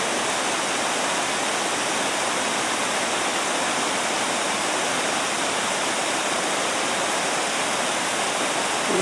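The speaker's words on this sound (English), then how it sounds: "Here we have waterfall." Continuous roaring rush of a waterfall pouring down onto a road, loud and steady throughout with no pauses or other sounds.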